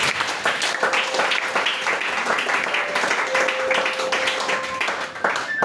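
A church congregation applauds steadily during a worship service, dense clapping sustained throughout with a few voices and cheers mixed in.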